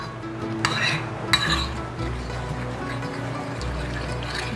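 All-purpose flour and filtered water are stirred into a batter in a bowl. A couple of sharp utensil clinks against the bowl come first, then soft, wet stirring continues close by.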